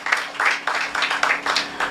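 Applause at a bridge handing-over ceremony, a short burst of clapping from a modest crowd with uneven, pulsing waves of hand claps.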